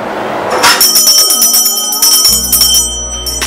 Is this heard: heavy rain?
no